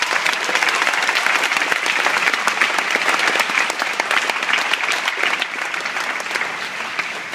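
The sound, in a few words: applause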